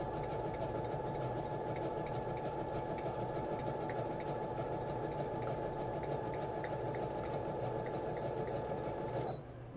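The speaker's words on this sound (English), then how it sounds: "And now I'm giving it a little stitching around" A sewing machine stitches around the edge of a journal page wrapped in sewing-pattern tissue, humming and clattering steadily at close range without a break until it stops just before the end.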